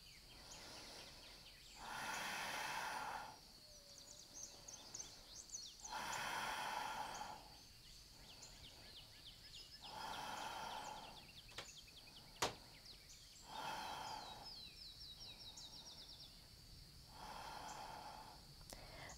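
Slow, deep breaths drawn and released during a held core-strength yoga pose on a FeetUp trainer, five long swells of airflow spaced a few seconds apart, close and soft, with no talking.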